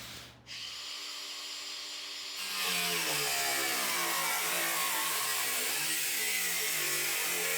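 A cutoff wheel slices through the sheet-metal body of a Jeep: after a brief quiet lead-in, a loud, close, steady high-pitched grinding whine starts and holds unbroken to the end.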